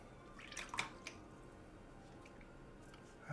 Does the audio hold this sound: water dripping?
yes